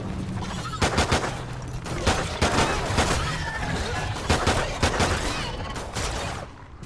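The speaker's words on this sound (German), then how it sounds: "Ich versuche jetzt einfach mal etwas ruhiger zu schießen, so nach dem Motto, lieber ein bisschen Munition sparen" Gunfire in the Call of Duty Extinction co-op mode, loud bursts of rapid automatic shots in short repeated volleys with brief gaps between, heard close, with faint talk underneath.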